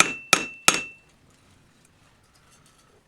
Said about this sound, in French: mettre ça debout sur l'enclume et venir frapper par au-dessus